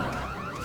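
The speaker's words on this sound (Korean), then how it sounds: "여러분 공식 경보입니다." A brief electronic alarm sound effect, like a car alarm, plays on a Korean TV lecture programme. It is a loud, steady, wavering tone that lasts under a second.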